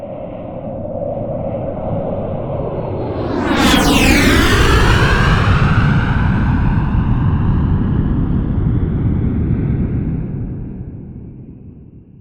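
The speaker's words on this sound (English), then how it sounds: "That is the sound of the A10 Thunderbolt 2 preset," A simulated A-10 Thunderbolt II jet roars past in a flyby, rising to a loud pass with a sweeping pitch shift, then a long rumbling fade as it recedes.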